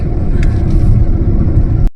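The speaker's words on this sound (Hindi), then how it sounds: "ये देखो उन्होंने नदी में ट्रैक्टर घुसा दिया, ऑफ रोड कर रहे हैं वो ट्रैक्टर से।" A tractor driving off-road through a river in a Bihar village gives a loud, steady low engine rumble with splashing water, running throughout until an abrupt cutoff near the end.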